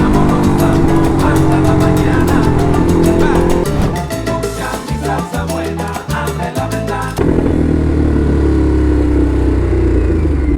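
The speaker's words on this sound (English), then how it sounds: "Sheesh. Traffic is heavy, man." Heavy road traffic with motorcycles and cars, a continuous engine drone with music-like beats over it for the first seven seconds, then plain broadband traffic noise.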